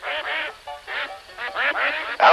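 Ducks on a farm quacking in quick bursts, a run of nasal calls with a brief pause midway, close and loud.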